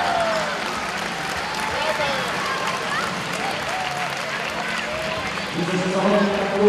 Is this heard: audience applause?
yes